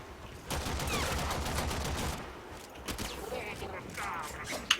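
Rapid bursts of gunfire in the shooter game Warframe, fired while the Excalibur character jumps mid-air. The dense volleys run for about two seconds, then thin into scattered shots and clatter before one sharp final report.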